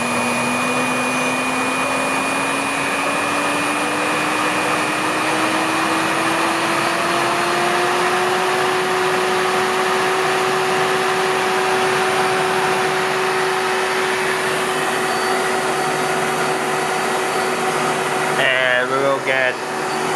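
A separately or self-excited DC generator whirs steadily in a laboratory test rig, its tone gliding upward as it speeds up and then holding a constant pitch, with a brief clattering burst near the end.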